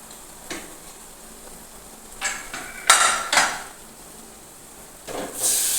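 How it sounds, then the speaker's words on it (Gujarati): Boiled dal tipped into hot oil and spices in a pot, with scattered clinks of a metal spoon against the pan and bursts of sizzling that swell near the middle and again at the end. "તો હિસાબે આપણે બાફેલી દાળ છે તે નાખી દઈશું"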